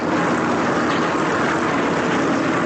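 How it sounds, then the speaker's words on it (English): A dense, continuous roar of aircraft engines fills the air, loud and unbroken, like planes and rotors passing overhead with no pauses. "The airplanes flying and helicopters flying overhead."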